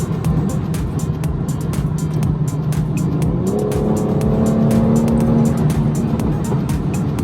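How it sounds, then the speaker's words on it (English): A tuned BMW F30 340i with a stage 3 transmission tune accelerates hard in sport mode. The loud engine drone jumps abruptly in pitch as the gearbox drops a gear instantly, then keeps climbing steadily with no talk over it. "mash the gas a little bit and it drops a gear instantly"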